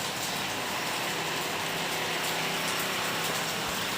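Heavy monsoon rain pours down steadily, a dense, loud hiss of drops hitting surfaces that holds constant from start to finish with no voices.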